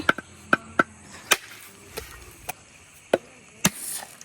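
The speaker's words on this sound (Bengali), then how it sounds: "পানিটা ফালাই দিয়ে আমি নারিকেলটা ফাটাই লইতেছি" Sharp, hard chopping blows strike a coconut to crack it open, about nine hits at an irregular pace, close and distinct with quiet gaps between.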